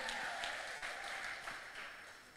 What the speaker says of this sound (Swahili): Makofi mazuri, makao mazuri